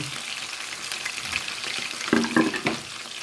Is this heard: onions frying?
yes